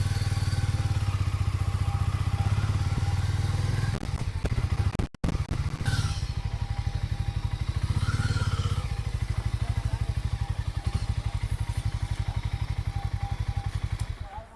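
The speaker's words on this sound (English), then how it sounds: "That's the throttle on. That's the acceleration. So let's give it the first gear. Pretty smooth gear shift." A Harley-Davidson X 440 motorcycle engine runs with steady throttle, a close, loud, pulsing rumble with a brief break and click around a gear change into first, then continuing evenly.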